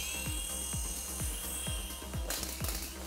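A small brain-controlled toy helicopter hovers with a thin, high-pitched rotor whine and a steady train of soft ticking pulses about twice a second, heard alone and fairly quiet.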